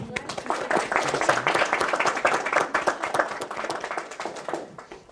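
Webinar participants applaud together, a dense, steady patter of hand claps lasting several seconds with voices mixed in beneath.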